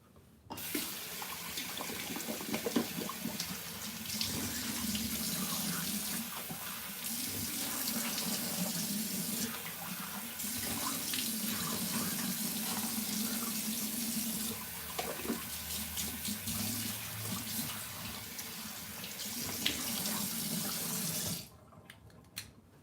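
Water runs steadily from a tap into a sink for a long stretch, splashing and hissing close by, then cuts off abruptly.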